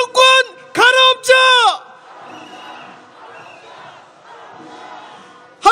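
A protest crowd at a rainy candlelight rally and march in Korea lets out three loud, unified shouts in quick succession, followed by a softer, sustained wash of cheering and murmuring voices.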